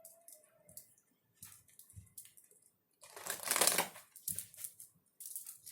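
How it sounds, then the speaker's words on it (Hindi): Tarot cards being shuffled by hand in short, soft riffling bursts separated by pauses, with one longer, louder flurry near the middle, close and quiet with no voices. "मैं शफल कर चुकी हूँ"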